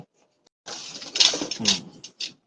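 A pigeon coos softly in a few short, breathy bursts, close by in an otherwise quiet space, ending with one brief final note.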